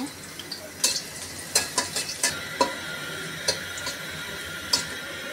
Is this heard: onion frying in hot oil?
yes